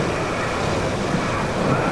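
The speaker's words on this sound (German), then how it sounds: "Die einen Wellen kreuzen über die anderen." Rough open-sea waves surge around a sailboat, a dense, steady roar of churning water and wind noise with no distinct breaks, loud and close throughout.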